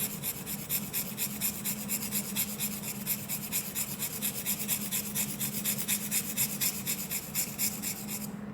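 A handmade writing pen's nib is rubbed against a rough surface to shape its point, giving a steady, continuous rasping scrape with a rhythmic back-and-forth pulse, close and fairly quiet, with no talking.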